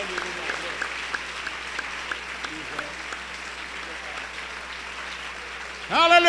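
A church congregation applauding during a French-language worship service, with steady clapping under an amplified voice leading the crowd before a sung or shouted musical phrase breaks in at the end.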